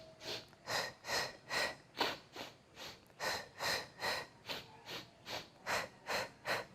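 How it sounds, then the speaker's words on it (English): Fast sniffing breaths from a sniff breathing exercise in a Pilates mat session, a steady train of about fifteen short, sharp nasal inhalations and exhalations in quick rhythm, close and clear with no talking. "So here you are like sniffing"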